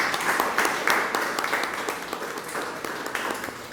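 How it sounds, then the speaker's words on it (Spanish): An audience claps steadily and moderately loud for a special guest at a talk on scholarships and graduate study in France, with dense, even applause throughout. "aplauso para nuestro invitado especial"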